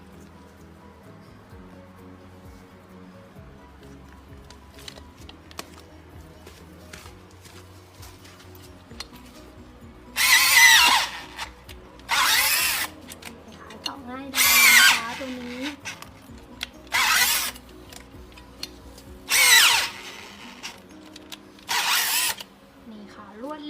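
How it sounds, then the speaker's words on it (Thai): A power earth auger with a 4 cm wide drill bit bores planting holes in soil, running in six loud whirring bursts of a few seconds each, separated by pauses, while someone speaks between them. "เราจะเจาะรูเจาะดิน ขุดดินนะคะ"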